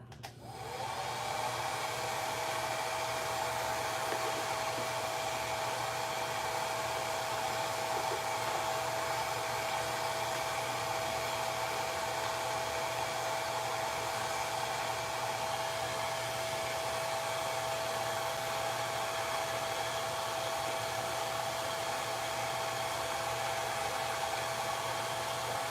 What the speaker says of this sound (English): I got my little hair dryer. Sorry if it's gonna be loud.